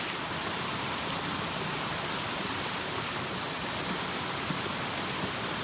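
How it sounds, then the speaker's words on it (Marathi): A waterfall in a hidden tribal tourist spot, roaring steadily as a continuous broadband rush that stays even and unbroken from start to finish, with no voices over it. "तर हा एक धबधबा आहे"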